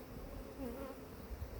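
Honey bees hum around an open beehive during a backyard beekeeping check, with a low, faint, steady drone and no voices.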